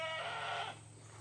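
A goat on a farm gives one drawn-out, quavering bleat that lasts about half a second and then trails off. The call is near and of moderate loudness, and no one speaks over it.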